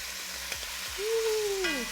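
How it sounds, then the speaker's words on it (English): Braised short ribs searing in a Dutch oven, a low steady sizzle with a few faint knocks and a brief whistling tone near the end. "We're going to let it sear for a few minutes until it's nice and golden brown."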